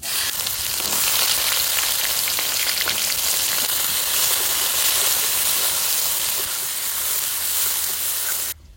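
Chopped onions hitting hot mustard oil in a kadai on a home stove give a steady, loud sizzle and hiss that carries on without a break for about eight seconds, then cuts off sharply near the end.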